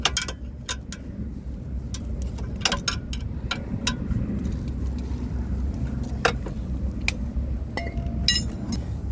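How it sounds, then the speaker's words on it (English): Steel box wrench tightening bolts on the rear brake caliper of a Mercedes-Benz W222 S-Class, heard as scattered sharp metallic clinks and ticks over a steady low rumble of background noise, with no talking. "You like to use the box wrench,"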